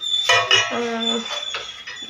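Dishes and pots clatter close by during house cleaning, a few sharp metallic clinks and knocks with a ringing tone, under a voice.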